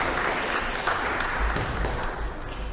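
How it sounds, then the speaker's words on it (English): Steady applause from a meeting-room audience at a Saugus Board of Selectmen session, a continuous close wash of clapping lasting the whole stretch with no pauses. "Or we can clap."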